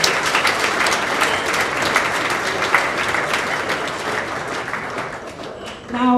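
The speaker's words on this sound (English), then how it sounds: "let's give Caitlin Leonard a round of applause" A crowd applauds an honoree at a 2008 Hall of Fame ceremony, full sustained clapping that stays loud and even before thinning slightly near the end.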